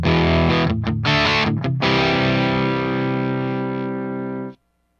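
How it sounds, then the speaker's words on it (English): Electric guitar through a Ceriatone Centura Klon-clone overdrive pedal into a clean amp channel: a single strummed chord rings out with mild grit and sustain, fading slightly before being abruptly muted. "show you what the pedal's doing, and you can hear the voicing of the pedal a little bit on a clean channel"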